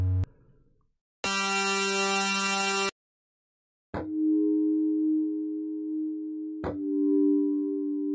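Presets from the Flex software synthesizer: a brief low tone, then a bright, buzzy sustained chord that stops abruptly, followed by a smooth, pure sustained tone that is retriggered once, with no voices.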